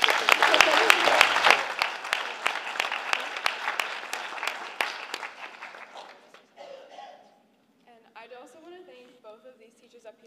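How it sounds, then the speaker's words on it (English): Audience applause at a spring concert, a dense wash of clapping that is loud at first and gradually thins and fades over several seconds, with a voice speaking near the end. "So let's just give a round of applause for her, even though she's not here."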